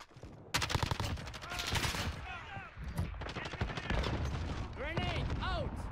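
Rapid bursts of Kilo 141 assault rifle fire in the video game Call of Duty: Modern Warfare, loud and repeated in short volleys, mixed with game effects, while a player talks over the action.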